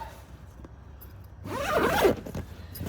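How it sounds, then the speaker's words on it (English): A zipper drawn shut on the carrying bag of a brushless cordless bandsaw, a single close, rasping pull lasting about a second, with no talk over it. "and then we zip it up"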